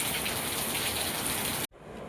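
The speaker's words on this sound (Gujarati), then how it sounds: "જો ગઈ કેટલું જોરદાર વરસાદ." A heavy monsoon downpour roars in a dense, steady hiss close by, then cuts off abruptly before quieter rain resumes.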